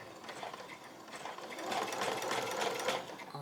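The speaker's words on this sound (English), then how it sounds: "I'm just going to sew straight across, but I'm going to go slowly first just to make sure I don't bend my needle" A sewing machine runs slowly and steadily, stitching straight across scrunchie fabric with a pipe cleaner inside. The close, rhythmic whirring grows a little louder as it goes on.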